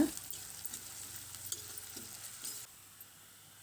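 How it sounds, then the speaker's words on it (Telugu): Chopped medium onion frying in oil with cumin and curry leaves for a flat bean curry gives a soft, steady sizzle with a few light stirring scrapes, quieter in the last second. "ఒక మీడియం సైజు ఉల్లిపాయ చిన్న ముక్కలుగా కట్ చేసుకుని వేసుకుని ఇవి కూడా దోరగా వేయించుకోవాలి"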